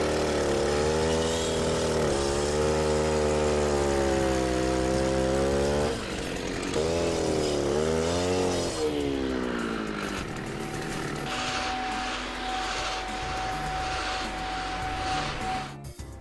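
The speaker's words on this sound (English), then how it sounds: "I'm gonna take the saw at this point and reopen all my tension relief cuts to make sure they're good and clean." A concrete saw reopens tension relief cuts in a slab floor, its engine droning loud and steady with rising and falling pitch as the blade bites, then easing into a rougher, noisier grind near the end.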